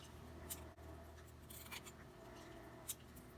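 Scissors snip through embellishment chain in a few short, sharp cuts against soft handling rustle and a steady low background hum, with no talking.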